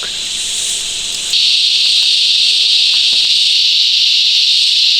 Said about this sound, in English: You can probably hear the cicadas now.